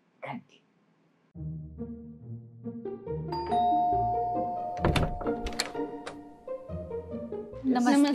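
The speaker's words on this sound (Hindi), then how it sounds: "और अब चलिए बजाते हैं किसी घर की घंटी।" A house doorbell rings with a chime of sustained, melodic tones, preceded by a dull thunk and followed by a layered, busy mix of sound.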